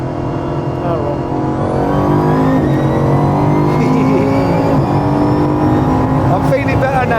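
A 1,600 hp Bugatti accelerates hard, its engine heard from inside the car as a loud, dense roar with a rising pitch that sustains throughout.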